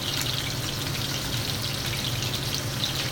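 Meatballs frying and browning in a pan give off a steady, dense sizzle with a soft crackling hiss that holds evenly throughout, close and alone with no talking.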